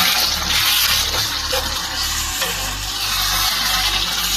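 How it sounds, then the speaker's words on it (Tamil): Chicken gravy is stirred in a pot over heat, giving a steady, close scraping and swirling with a continuous sizzling, bubbling bed underneath. No one speaks. "கிளறி விடலாம் கொஞ்சம்."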